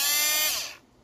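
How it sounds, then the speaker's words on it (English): An Oregon Sure Sharp 12-volt chainsaw sharpener running outdoors in the woods off an ATV power outlet gives a high, close electric whine that spins down and fades within a second. "I can sharpen my chainsaw out here."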